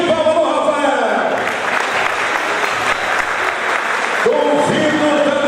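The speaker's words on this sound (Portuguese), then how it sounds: "Uma forte salva de palmas no Rafael." Loud, steady applause from an audience at the 2016 ANQM circuit opening, sustained for several seconds with crowd noise and some voices mixed in.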